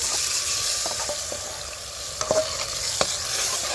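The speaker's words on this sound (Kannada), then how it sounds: "ಸ್ವಲ್ಪ ಮಸಾಲೆ ಎಣ್ಣೆಯಲ್ಲಿ ಬೇಯಲಿದೆ" Ground masala paste fries in oil for a village-style black chana sambar, a steady close sizzle with occasional light scrapes and taps of a stirring spoon, and no voices.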